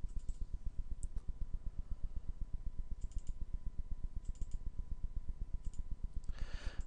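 Rapid, steady clicking from a computer mouse while working in Microsoft Excel, dense and even throughout with a faint steady hum beneath and a brief rustle at the end.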